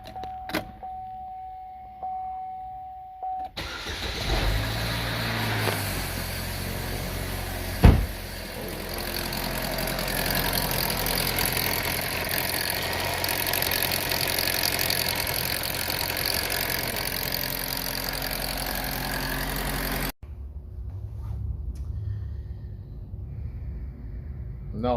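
A 2013 Chevrolet Equinox engine runs roughly and unevenly for a long stretch, loud and close, with a brief sharp knock partway through and quieter surroundings before and after.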